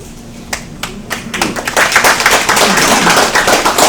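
Film festival panel audience clapping at a breakfast panel event, a few scattered separate claps at first, then swelling into dense, steady applause that fills the room.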